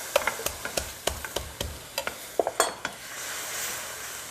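Garlic frying in a pan, stirred with a utensil that makes a quick series of sharp taps and scrapes against the pan over a soft, faint sizzle.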